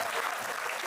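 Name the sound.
audience applause, clapping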